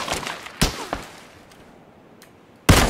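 Gunfire from the video game Battlegrounds: a few sharp, punchy shots, one near the start and a louder one at the close, with a softer crack between them over a quiet background.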